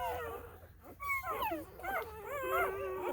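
Newborn guardian dog puppies, under a day old, whimper and squeak in thin, high, mewing cries, several overlapping close by, almost kitten-like.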